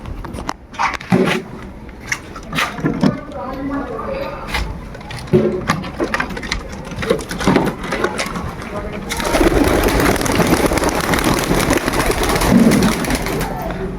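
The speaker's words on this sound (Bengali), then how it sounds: "আমি এখন আমি পায়রার খোপটা খুলে দিচ্ছি" Pigeons cooing in and around an opened coop, repeated soft throaty coos under someone talking, with wing flutters and a rush of busier bird noise in the later half.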